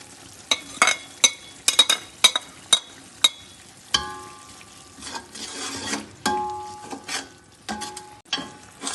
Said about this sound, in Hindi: अब ये जो है ऐड कर देंगे इसके अंदर ताकि ये भी भून दे अच्छी तरह।